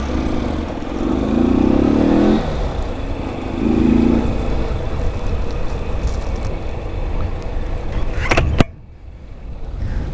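A motorcycle fitted with a new aftermarket exhaust revs loudly and close in two throaty bursts, then rumbles as it rides off, with a sharp pop or bang before the sound drops away.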